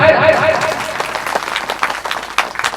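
A crowd at an evening Bhagavat Katha religious discourse in a village claps loudly, fading and scattering into uneven, separate claps, with a voice heard at the start.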